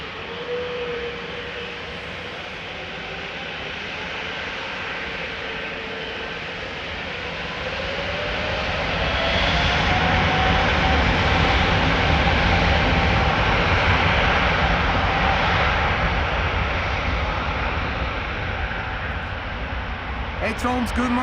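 An Emirates jet airliner taxis at Amsterdam Schiphol Airport, its engines a broad, steady roar that swells and holds loud in the middle before easing slightly, with wind-like noise throughout.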